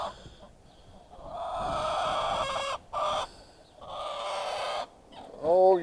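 Chickens squawk and cluck in a cold winter coop, long loud calls rising in bursts one after another, close by, ending in a sharp rising squawk.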